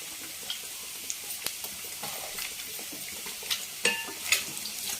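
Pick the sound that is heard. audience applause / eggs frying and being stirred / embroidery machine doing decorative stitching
eggs frying and being stirred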